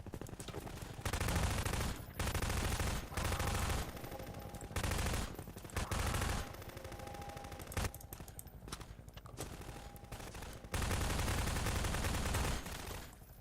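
Rapid bursts of gunfire in the video game Garry's Mod crackle in repeated volleys, loud and dense, with brief gaps between strings of automatic shots.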